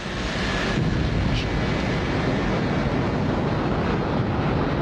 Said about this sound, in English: the Blackbird takes off with nearly dry